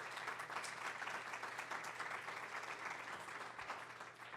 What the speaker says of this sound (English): If we could give a round of applause for our incredible panel this morning.